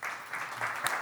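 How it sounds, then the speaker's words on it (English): A short burst of clapping from a small conference audience, brisk and steady for about a second. "Round of applause for Richard."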